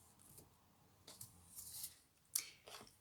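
Scissors snipping through a length of wool yarn, a few quiet crisp cuts spaced across the moment, close and faint with no talking.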